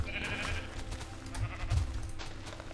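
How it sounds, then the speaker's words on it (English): Sheep bleating in Minecraft, near a flock of dyed purple sheep, a few short bleats over faint game background noise with no talk. "Purple sheep."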